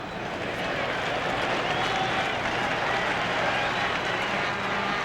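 A Toronto ballpark crowd at a 1993 World Series game applauds in a steady, moderately loud wash of clapping and cheering that holds for several seconds.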